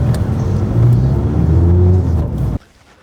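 A small Mazda MX-5 roadster drives near Melbourne, its engine rumbling and briefly revving at close range before the sound cuts off abruptly, with no voices heard.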